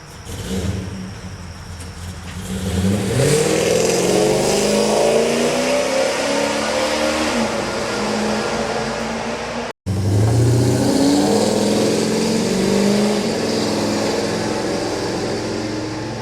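A 1971 Chevrolet C10 pickup's engine revs hard and close, rising in pitch and holding a loud steady roar, with a brief cut near the middle before the engine noise resumes.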